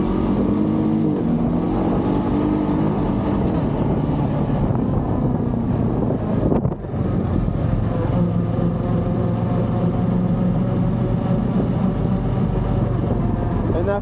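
A Honda Pioneer 500 side-by-side runs loud and close, its engine note rising and dropping as gears shift, with a brief cut in sound midway and steady wind rumble.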